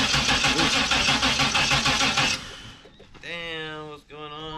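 A Chevrolet S10 truck engine cranks for a couple of seconds, then catches and revs up and down in rising and falling surges, heard close and loud with brief voices around it.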